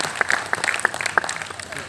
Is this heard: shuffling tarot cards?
no